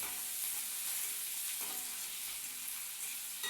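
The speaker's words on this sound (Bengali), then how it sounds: "পেঁয়াজটা একটু ফোড়ন দিয়ে দিচ্ছি তেজপাতা পাঁচফোড়ন পেঁয়াজ" Onion, bay leaf and Bengali five-spice (panch phoron) tempering in hot oil in a pan, a steady dense sizzle and crackle that holds evenly throughout, close by, with no talking.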